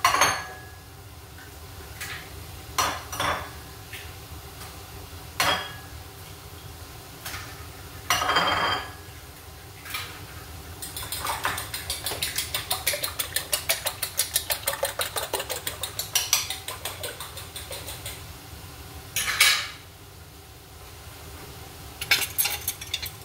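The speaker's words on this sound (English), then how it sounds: "go ahead and scramble these 4 eggs" A fork or whisk scrambles four eggs in a bowl with a fast, steady run of light clinking taps, broken by a few louder knocks against the bowl and pauses, with no talk.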